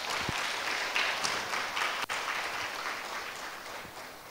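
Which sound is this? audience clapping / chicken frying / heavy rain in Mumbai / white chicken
audience clapping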